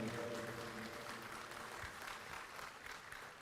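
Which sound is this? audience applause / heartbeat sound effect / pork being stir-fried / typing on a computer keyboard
audience applause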